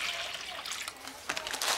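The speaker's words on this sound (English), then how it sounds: "I'm going to pour the water into my bowl." Water is poured into a bowl for mixing plaster, a short, light trickle and splash that grows brighter and more broken toward the end, heard up close with no talking.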